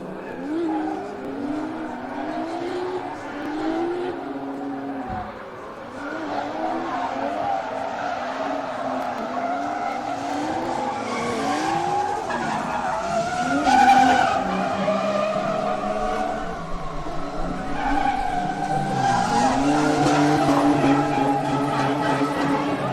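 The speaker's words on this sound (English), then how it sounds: "Brody leading, Michael chasing" Drift cars skid side by side through a tandem battle in a Pro-Am drift series, tires squealing in long wavering screeches over revving engines, building louder toward the end, with faint commentary underneath.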